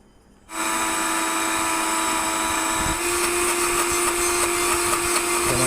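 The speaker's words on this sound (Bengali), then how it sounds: "আমি এখন ব্লেন্ডার করব।" Electric blender grinding neem leaves into a fine paste, starting abruptly after a moment of quiet and then running as a loud, steady high-pitched whir with a constant motor hum throughout.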